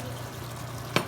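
Tomato puree stirred into sizzling meatball gravy in a pan, a steady soft frying hiss throughout with a brief louder scrape or splash of stirring near the end.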